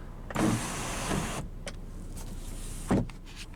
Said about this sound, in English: You can also open the sunroof up as a vent.